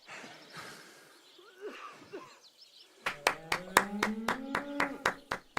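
Applause from a crowd in Kingdom Come: Deliverance II: faint murmuring and voices first, then a run of about a dozen distinct sharp claps in a steady rhythm, close and moderately loud.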